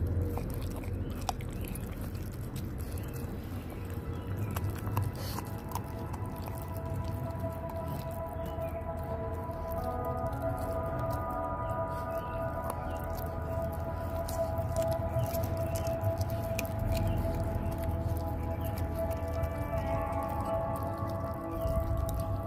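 Puppies chew and bite on whole raw fish, giving wet, squishy crunching and smacking sounds that continue steadily and close up over a low background hum, with no talking.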